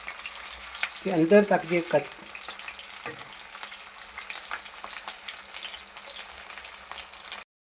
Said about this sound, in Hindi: बिल्कुल हल्की आंच पे आपने फ्राई कर लेना